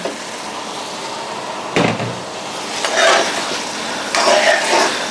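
Potatoes for Bombay aloo tumble into a hot pan and fry, with a few distinct clattering bursts of stirring and pan contact over a low sizzle, close up and without speech.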